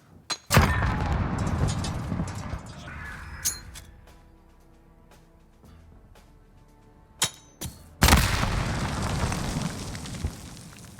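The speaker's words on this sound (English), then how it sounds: "You can be sitting on this bridge, throw a nade straight in the air, and you can still be playing defense" A grenade is thrown and bursts on the Azhir Cave map in a shooter game: a sharp loud blast opens the sequence, scattered metallic clinks and small impacts follow, then a second heavy explosion roars near the end.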